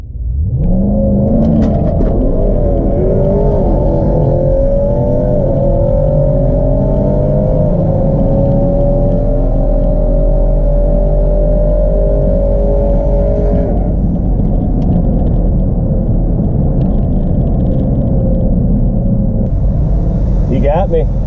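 A turbocharged 2014 Jeep SRT8 with a built motor, 82mm turbo, Paramount transmission and 650 all-wheel horsepower launches in a drag race, its loud engine drone climbing steadily in pitch for about twelve seconds before levelling off and fading.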